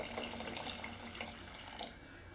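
Water pours steadily into a cooking pot of chickpeas to top it up, giving a continuous splashing trickle that runs close and fairly loud for about two seconds, then eases off.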